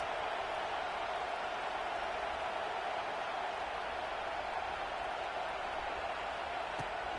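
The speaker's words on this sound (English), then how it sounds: "Listen to this crowd just shaking the girders of this place, trying to help their defense" A packed college football stadium crowd roars steadily to urge on its defense, a dense, unbroken wall of noise that holds loud and even throughout.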